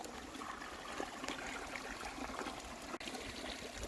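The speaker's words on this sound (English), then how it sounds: "At the moment this is the water coming out of the plug hole." Spring water trickles steadily out of a plug hole in a pond, a continuous close, even gurgle with no other sounds over it.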